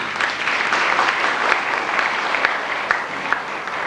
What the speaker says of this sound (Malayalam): എല്ലാവരും കൂടെ ഒന്നിച്ച് കൈയടിച്ച് അദ്ദേഹത്തെ നമുക്ക് പ്രോത്സാഹിക്കാം